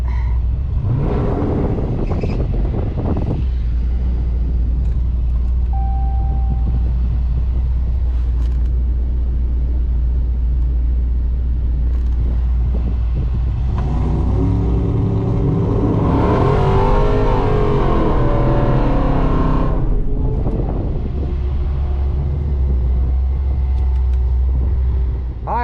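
A 2020 Dodge Challenger Hellcat Redeye's engine roars loudly and continuously at a track day while the tires are cleaned, with a deep rumble building into a sustained higher rev and then easing back.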